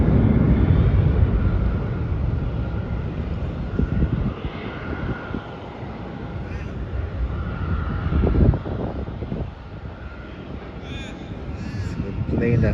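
A Qantas Boeing 737 landing at Melbourne Airport makes a rumbling engine roar mixed with wind buffeting on the microphone. Crows caw nearby, and voices murmur in the background.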